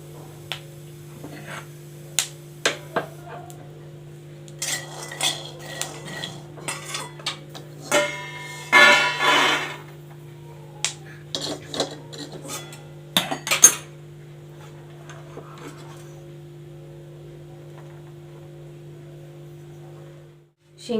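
Roasted peanuts rattle and clink as they are scraped from a hot kadhai onto a metal plate, in sparse, sharp bursts with one busier scraping stretch and quiet pauses between.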